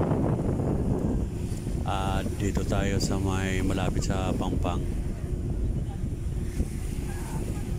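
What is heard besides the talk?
wind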